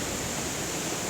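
Water pours down the Bhim Khola natural waterfall as a steady, dense, hissing roar, loud and unbroken for about a second, with no voices.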